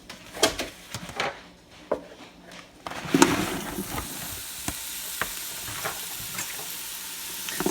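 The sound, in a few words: partially frozen sausage sautéing in an Instant Pot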